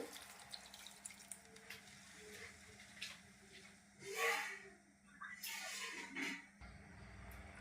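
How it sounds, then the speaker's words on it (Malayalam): Water is poured into a pot of broccoli soup with almonds, a faint splash and gurgle in two short bursts, the rest quiet with small drips and clinks. "ഒരു കപ്പ് വെള്ളം കൂടെ ചേർത്ത് കൊടുക്കുന്നു"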